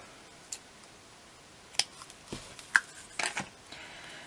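Scissors snip through a length of gold ribbon thread at a papercraft table, a few sharp, quiet clicks and snips scattered over a few seconds, with no talking.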